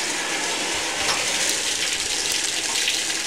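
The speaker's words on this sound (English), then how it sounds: "so now we're getting water" Water rushing into a Kenmore 90 Series washer tub, a steady loud hiss and splash from close by, unbroken for the whole stretch.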